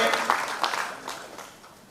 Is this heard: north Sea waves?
no